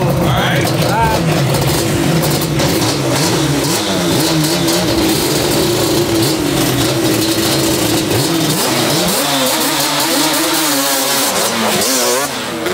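Audi RS3 and a drag-spec Yamaha Banshee in a wheelie drag race, loud engines revving and roaring continuously and up close, with pitch swings as they accelerate and people talking over the noise.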